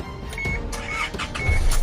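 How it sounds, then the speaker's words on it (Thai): A used car's engine cranks and catches in a short burst, a close, loud mechanical whir that settles into a steady idle hum. "สตาร์ทเครื่องพร้อมกันนะครับ"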